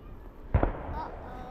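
A couple of firework bangs go off in quick succession at moderate distance, with a short rumble trailing after and faint ambient noise.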